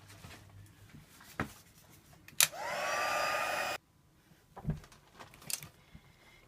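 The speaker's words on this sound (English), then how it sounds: "so I'm just going to dry that off with my heat tool to speed things up." A heat tool blows hot air to dry paint on an up-cycled Christmas bauble, a steady, loud roaring whoosh lasting just over a second between faint handling noises.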